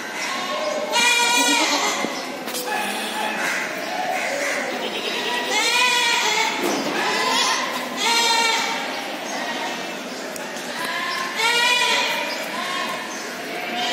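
Goats, including a large Sojat goat, bleat over and over at the crowded Deonar goat market, loud, wavering calls coming in repeated bursts close by, with market chatter and voices underneath.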